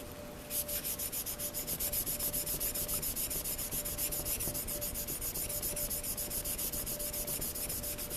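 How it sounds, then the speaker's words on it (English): An old paring knife is sharpened on a flat stone covered in slurry, its blade rubbed back and forth in a steady, rapid rhythm of close, gritty scraping strokes that continue without pause. "Now, you sharpen the back of the knife."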